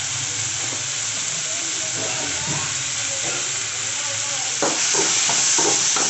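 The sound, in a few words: onions and tomatoes sautéing in a pan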